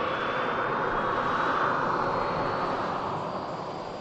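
An Air Transat airliner at Manchester Airport gives off a steady, moderately loud jet engine hiss and rumble, with a faint high whine and no voices.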